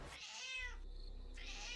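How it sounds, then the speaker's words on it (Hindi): A black cat screams loudly as a horror sound effect, giving two drawn-out, wailing yowls separated by a brief pause, close and on its own. "2 सर वाली काली बिल्ली जोर जोर से चिल्लाने लगी"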